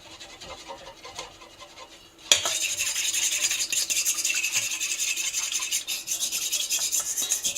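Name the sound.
stirring a sauce in a pot while making pizza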